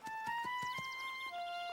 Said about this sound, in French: Il est vraiment grand, ce cheval, papa.